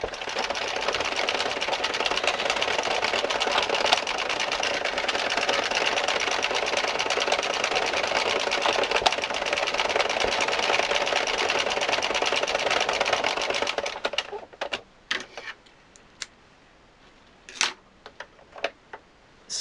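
Addi circular knitting machine cranked steadily through rows of yarn, a dense continuous mechanical clatter for about fourteen seconds, then stopping into a few scattered clicks and handling noises.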